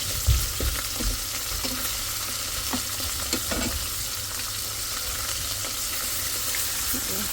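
Fish pieces fry in hot oil with a steady, dense sizzle and crackle, close and constant throughout, with a few faint clicks and no talking.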